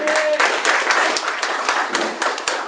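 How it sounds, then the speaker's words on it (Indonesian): An audience breaks into loud, sustained applause for Valian at an Indonesian vision-and-mission presentation: dense, continuous clapping from many hands, steady throughout with a few sharper claps standing out. "Kita tepuk tangan buat Valian"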